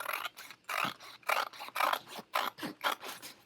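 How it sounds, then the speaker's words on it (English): Scissors snip through single-sided decorative paper in a rapid series of about nine short crisp cuts, each a brief rasping slice with pauses between, close and clear. "Maybe I should use my scissors so I don't mess it up."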